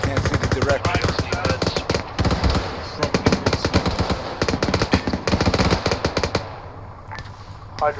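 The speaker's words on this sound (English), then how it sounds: "Enemy fire!" Enemy gunfire in the video game Spectre rattles in rapid automatic bursts, loud and close, continuing for several seconds before tapering off near the end, with a voice speaking over it.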